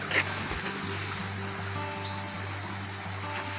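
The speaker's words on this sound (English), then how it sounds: "Just listen to that, just birdsong and rivers" Birdsong over a flowing river on a walk in the Peak District: a steady rushing water bed with scattered chirps and tweets from birds nearby, continuous and fairly loud throughout.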